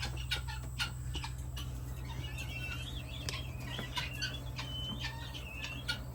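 Chickens cluck and squawk in short, scattered bursts over a constant low mechanical hum, fairly close by.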